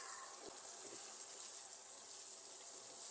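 Half a glass of water is poured into a pan of spiced gobi aloo chicken, a soft continuous splashing and gushing, faint and steady throughout.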